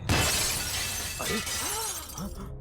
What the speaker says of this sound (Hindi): तभी अचानक एक जोर का धमाका हुआ और कांच टूटने की आवाज आई।